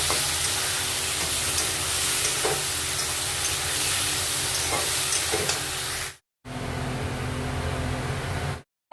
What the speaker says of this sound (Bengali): এখানে আমি ভেন্ডি আলু ভাজাটা করছি